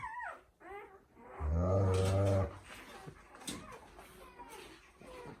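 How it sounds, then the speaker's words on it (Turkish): A German shepherd mother guarding her newborn puppies growls and snaps at another dog, with a deep sustained snarl, whimpers and short yelps, close by and fairly loud. "Gece Max'in içeri girmesini istemiyor. Saldırıyor ona. Kızıyor"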